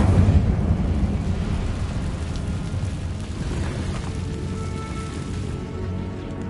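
Bombarda blast spell in a Harry Potter video game, a loud low boom at the start that rumbles and fades slowly into a sustained reverberant roar, heard alone without speech.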